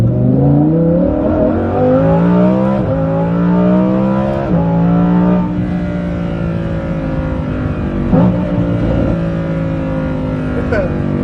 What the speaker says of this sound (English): in Corsa, which is race, the only mode you should be driving this car in, it's really loud and sounds, I mean, just listen